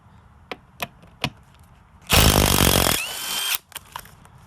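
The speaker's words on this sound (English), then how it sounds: "Much easier with the power tool." A power tool, likely an impact driver, spins out T45 bolts from a Ford Mustang seat in one loud, sustained burst of about a second and a half, preceded and followed by a few sharp metallic clicks and knocks.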